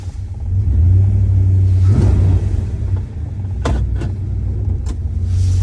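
A satin black 1973 Dodge Charger's engine rumbles steadily at close range, loud and deep, with a few sharp clicks and knocks near the end and no speech.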